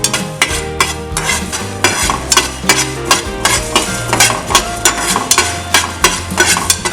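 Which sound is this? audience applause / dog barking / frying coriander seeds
frying coriander seeds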